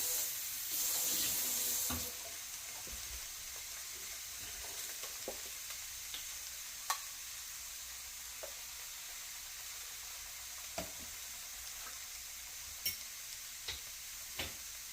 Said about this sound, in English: we are going to add just about a third cup of water to help it steam down.